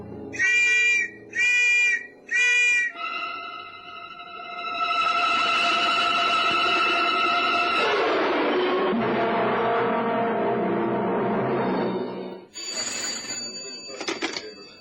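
Three short shrill trilling whistle bursts, then a long sustained warbling tone, then more shrill tones near the end; loud and close, no talking.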